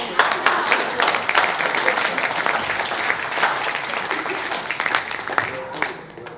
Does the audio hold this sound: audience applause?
yes